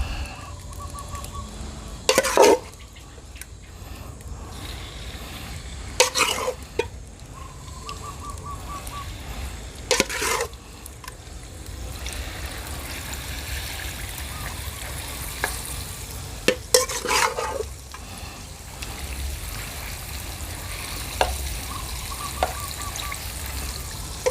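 Pork belly frying in fish sauce over moderate heat, a steady soft sizzle with occasional louder stirring clatters and scrapes, close and continuous with no talking.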